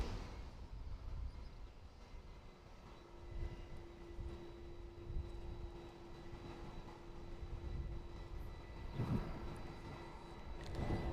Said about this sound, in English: United has just left the gate area and is taxiing